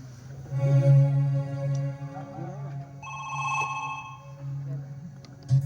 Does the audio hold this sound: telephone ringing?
yes